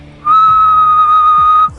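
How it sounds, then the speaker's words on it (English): A person whistles one steady, pure note into a laboratory microphone, held loud and level for about a second and a half with a clean onset and cutoff, with faint low thumps underneath. "And you can see when I whistle,"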